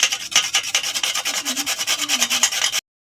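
A carrot is grated by hand against a grater in quick, regular rasping strokes, loud and close, about a dozen rhythmic scrapes, no voices, ending abruptly into silence.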